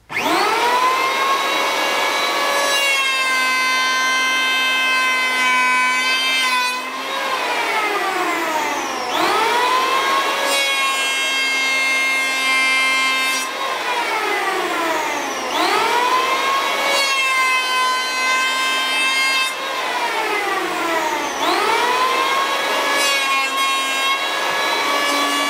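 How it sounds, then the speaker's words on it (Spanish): A loud, steady power-tool whine with a rising and falling pitch, repeating in several long passes as an electric planer shaves walnut. "Primero vamos a pasar con el cepillo eléctrico"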